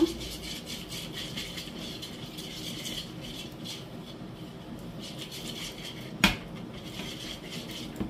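Steady scraping and rattling of a utensil against a pan while flour is stirred into a mixture, a continuous close rubbing texture with a single sharp metallic clink near the end.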